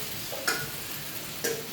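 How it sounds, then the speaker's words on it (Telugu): Sabudana mix dropped into a hot tempering of green chilies and cumin, giving a steady soft sizzle with a couple of brief stirring clatters, close and continuous, no talk. "కొంచెం పోపు వేసిన తర్వాత ఇట్లా సాబుదానా ఇది మిక్స్ వేసేసుకోండి"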